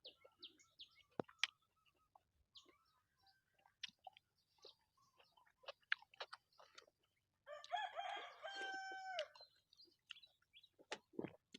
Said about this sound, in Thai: ฟังเสียงไก่เสียงกาเลยพี่น้อง